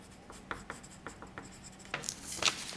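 A pen traces over writing on a sheet of paper, producing faint, quick scratchy strokes in an irregular rhythm, close and quiet.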